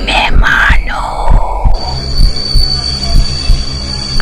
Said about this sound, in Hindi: ट्रेन अब रुक गई थी।